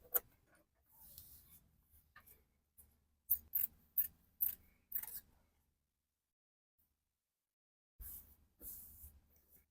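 Scissors cut fabric pattern pieces for a shirt dress with a front zipper: several crisp, close snips in quick bursts, each separated by brief quiet pauses.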